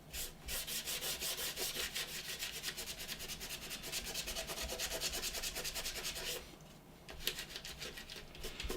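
Small plastic model gun parts from a Revell Star Destroyer kit are rubbed and sanded in quick, steady back-and-forth strokes, close and continuous, pausing briefly before resuming.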